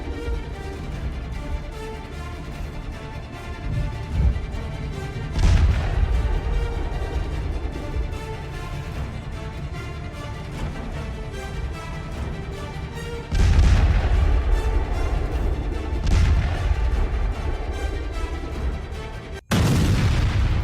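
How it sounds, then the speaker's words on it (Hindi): Explosions from a Russian Geran-2 suicide drone air strike on a thermal power plant in Kamianske, Ukraine, with loud heavy booms at intervals over a sustained rumbling din of distant blasts and fire. "जहां रूसी सुसाइड गेरान 2 एयरक्राफ्ट ने एयर स्ट्राइक करके यूक्रेन के थर्मल पावर प्लांट"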